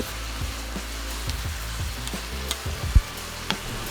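Onion, zucchini and chunjang black bean sauce stir-frying on an induction hob for seafood jjajang, a continuous close sizzle with frequent scraping stirs and a sharper knock of the utensil near the end, no speech.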